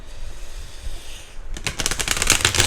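A new deck of tarot cards is shuffled by hand, a quiet pause giving way to a rapid, close riffling flutter that builds over the last second or so.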